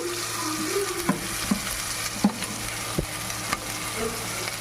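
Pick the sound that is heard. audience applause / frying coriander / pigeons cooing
frying coriander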